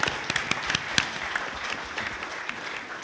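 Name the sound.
audience applause at Comic-Con panel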